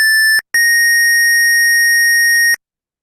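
A DIY IoT alarm clock circuit sounds a loud, piercing electronic beep tone: a short burst, a brief gap, then one long sustained beep before it cuts off to silence.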